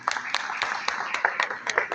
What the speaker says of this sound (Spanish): Muy bueno el aplauso, sí señor.